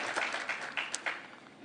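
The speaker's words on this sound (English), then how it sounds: "let's give Jabril a round of applause as well" An audience at a Greensboro February One sit-in anniversary celebration applauds for Jabril, a faint, distant wash of clapping with a few sharper claps standing out.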